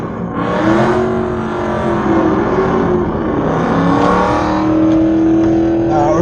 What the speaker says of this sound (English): So let them do their burnout.